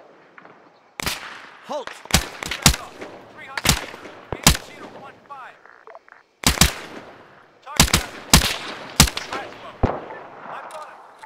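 Gunfire in an ArmA 3 special forces battle: sharp, loud rifle shots and short automatic bursts crack in irregular clusters with echoing tails, separated by brief pauses, while a voice briefly calls out.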